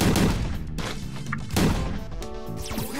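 Heavy cannon blasts boom twice in a video game, each a sharp loud crack trailing into a low rumbling echo.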